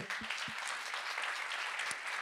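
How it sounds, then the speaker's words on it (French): Steady, fairly quiet applause from an audience at a French talk welcoming a speaker, a few close claps standing out near the start. "je vous demande un tonnerre d'applaudissements pour Émilie Warezak."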